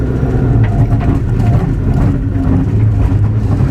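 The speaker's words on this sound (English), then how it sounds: "you can feel like the diff just chewing itself to pieces" Toyota GT86 fitted with a Kaaz 1.5-way limited-slip differential, heard as a steady loud drivetrain drone with a rough grinding, chattering quality inside the car throughout.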